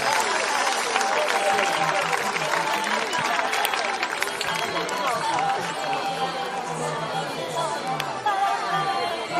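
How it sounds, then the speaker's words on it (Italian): Applause for rider Gesuino Caretta at a Sardinian horse event in Oristano, a dense, steady wash of crowd clapping and chatter that runs loud throughout the whole stretch. "Un applauso a Gesuino Caretta."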